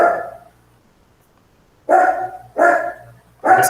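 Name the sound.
dog barking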